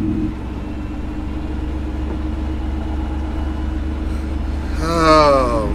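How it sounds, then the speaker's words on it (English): Steady low truck engine-brake rumble holds throughout as a heavy truck creeps slowly downhill on I-40 in New Mexico, with a rising whine and brief voice-like tones near the end. "So right now I'm going down the hill, very slow, just creeping with my engine brake."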